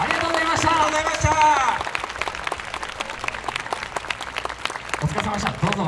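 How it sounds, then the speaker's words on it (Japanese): Applause for the judges at a YOSAKOI dance festival awards ceremony in Obama, Wakasa, 2019, a broad wash of clapping rising after a loudspeaker announcement and continuing steadily, with talk over it at the start. "皆様、今一度審査員の方々、前野社長、佐々木支社長に盛大な拍手をお願いいたします"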